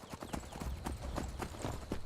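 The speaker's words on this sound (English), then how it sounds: "I'll just go ahead and park my horse right there." Horse hooves clip-clop in steady rhythm along a road in the video game Skyrim, close and clear over a game ambience bed.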